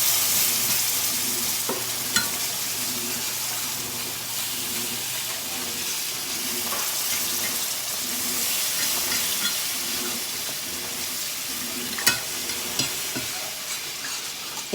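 Milk being whisked into gravy in a pan: a steady sizzling hiss with soft rhythmic stirring scrapes running throughout, close and fairly quiet, with a couple of sharp clinks.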